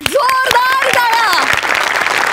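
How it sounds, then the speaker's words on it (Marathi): An audience claps during a Marathi comedy stage show. The applause is a brisk burst of claps heard under a speaking voice. "जोरदार टाळ्या."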